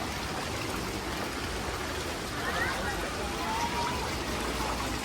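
Heavy rain pours down in a dense, continuous hiss, loud and unbroken, with faint brief tones rising above it midway.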